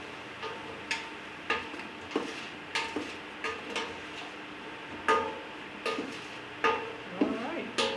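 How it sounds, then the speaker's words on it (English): A spoon stirring food in a pot during a cooking class. The scrapes and knocks against the pot come at irregular intervals, close and fairly faint, with a little quiet background noise between them. "I'm just gonna stir it."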